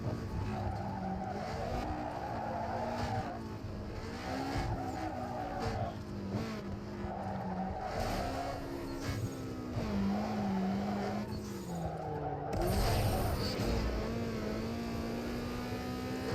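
A Honda Civic in the racing video game Need for Speed Underground 2 revs through repeated gear changes, its engine note rising and dropping in a steady cycle, with tire squeal and a crash-like burst near the end.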